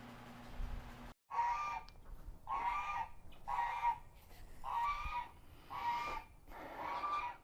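A pet goose honks six times in a steady, evenly spaced series, each call loud, nasal and close, with brief pauses between.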